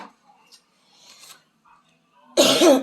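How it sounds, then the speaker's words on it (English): A few faint, quiet sounds, then a single loud, rough throat clearing close to the microphone at the end. "really sorry about clearing my throat"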